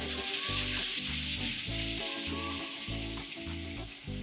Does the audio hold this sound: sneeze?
no